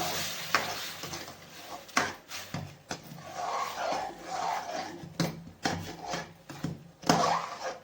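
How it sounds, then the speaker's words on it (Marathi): A spoon stirs semolina sheera, made with ghee and hot water, in a pan. Close scraping strokes come in irregular bursts over a soft background hiss, and no one speaks. "चांगला हलवून घ्यायचा आहे"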